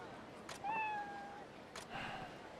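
Cat meowing in the video game Like a Dragon: Ishin!, a single drawn-out faint meow with a softer follow-up, set against quiet game ambience and light background noise.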